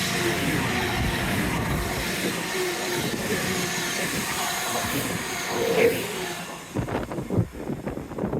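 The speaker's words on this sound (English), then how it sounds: "the trains are certainly working today" A train rumbles past on a seafront with a broad rushing roar and hiss, the noise fading near the end as clattering, uneven thumps take over.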